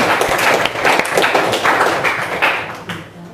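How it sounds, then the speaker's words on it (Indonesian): Children in a classroom clap together in a quick rhythmic pattern, a dense run of bright, close hand claps that fades slightly toward the end. "tepuk tangan dulu"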